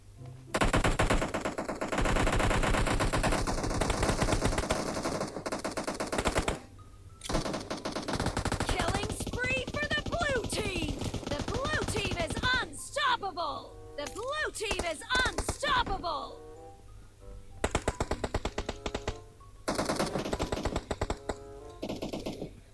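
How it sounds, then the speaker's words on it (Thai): Gunfire in a 4v4 match of the PUBG Mobile video game, with long, loud bursts of rapid automatic fire broken by brief pauses and someone talking over it at times. "ยิงปูนี่ครับปู"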